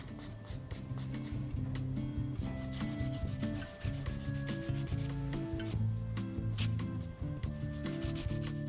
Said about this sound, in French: Pour ça, nous prenons la lime avec l'émeri le plus fin